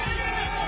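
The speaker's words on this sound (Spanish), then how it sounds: "Libertad es lo que más gritan acá en Estación Central" A brief burst of a street crowd of Venezuelans at Estación Central in Chile, celebrating with loud, overlapping shouts and cheering voices blending into a dense roar.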